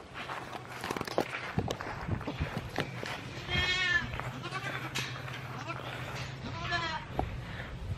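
Goats bleating near a house, several wavering calls rising over footsteps and background chatter, with people talking throughout.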